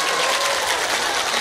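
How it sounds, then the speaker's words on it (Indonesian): Audience applause for Fatimah Zahra at an Islamic religious gathering: dense, loud, continuous clapping from a large crowd, sustained without pause. "Tepuk tangannya buat Fatimah"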